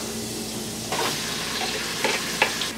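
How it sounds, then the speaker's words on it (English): Chicken for chicken fried rice is frying in a buttered pot, with a continuous sizzle and stirring scrapes that grow busier after the first second, plus a few sharper clinks near the end, close up. "What you want to do is keep on moving it around. The idea is to get your meat as close as the well done as possible."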